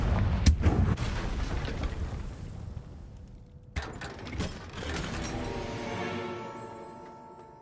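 A video game Confringo blasting curse sets off an explosion: a heavy boom with clattering debris, then a second sharp blast that rumbles and rings out over several seconds, with no voices.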